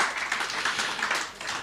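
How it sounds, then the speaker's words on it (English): Audience clapping during an AI panel discussion in Nairobi, a brief burst of crowd applause, fairly close and even, tapering off slightly at the end. "Yes, please clap."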